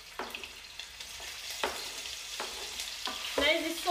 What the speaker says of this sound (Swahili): Na hizi sausage nitazigeuza kwa mafuta kama dakika mbili hivi, zikaangike tu na mafuta.